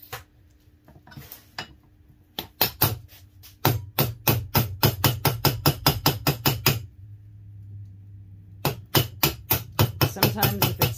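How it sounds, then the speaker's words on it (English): A spoon ring is hammered on a metal mandrel in loud, close, ringing metallic strikes. Quick rhythmic runs of blows are broken by short pauses, with a steady hum beneath. "you can just hit it a few times and walk it up your mandrel"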